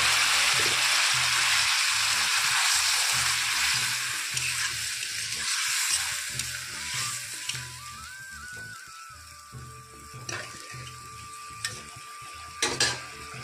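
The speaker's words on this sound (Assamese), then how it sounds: "ভজা হৈ গ'ল, এতিয়া দি দিম মই পানী।" Water hits a hot pan of fried ingredients for an Assamese egg omelette curry, setting off a loud, broad sizzle that slowly dies down. Scraping and clattering from stirring runs underneath throughout.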